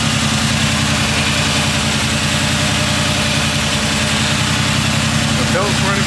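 A 1980 Chevy Caprice box Chevy engine running at idle, a loud, steady rumbling drone with an even pulsing rhythm heard close up throughout.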